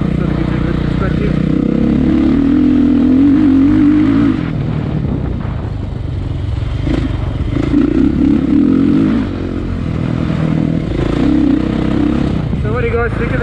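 A dirt bike is ridden on a trail, its engine droning and revving in surges with wind buffeting close to the handlebar-mounted camera, and speech is heard over parts of it.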